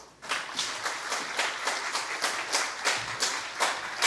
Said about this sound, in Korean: 나오실 때 한 번 더 박수하겠습니다